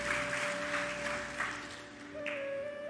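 A church congregation clapping together during a sermon, a steady, even patter of many hands lasting a few seconds over a faint sustained tone.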